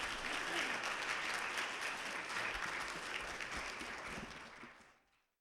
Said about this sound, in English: I will allow you to applaud now for that work